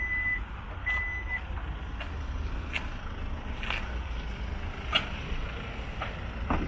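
Two short electronic warning beeps sound as the power tailgate of a 2022 Kia Niro 1.6 Hybrid closes after its button is pressed, over a steady low outdoor rumble with faint clicks.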